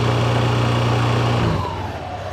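A Yamaha NMAX scooter fitted with a VMAX Racing Onyx muffler holds a steady engine drone around 3,000 RPM, loud and close, then the tone drops and softens near the end.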